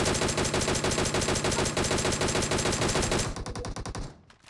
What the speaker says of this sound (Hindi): फायरिंग आ रही है